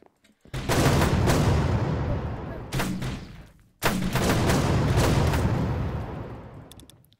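Bursts of rapid gunfire in a Minecraft DayZ-style infection roleplay match, two long loud volleys separated by a brief pause, dense and sustained with no talk over them.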